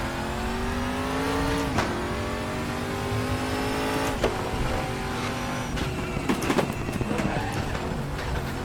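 Nissan GT-R GT1 race car driven in the RaceRoom racing game, its engine loud and close, revving steadily through gear changes with rising and falling pitch and a few brief tyre and kerb noises, no talking.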